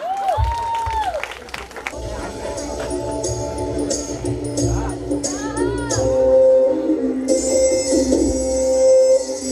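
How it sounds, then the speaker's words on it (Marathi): Loud applause from an audience at a Bhavani Mata gondhal gathering, sustained dense clapping with some cheering and children's voices over a rising musical backdrop, building louder toward the end. "जोरदार टाळ्या."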